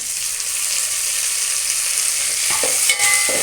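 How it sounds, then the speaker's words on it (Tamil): Onions and tomato sautéing in a pan for brinjal kosumalli give a steady close sizzle, and a few sharp spatula scrapes and clinks come near the end, with no voices. "இனி நல்லா வதக்கணும்."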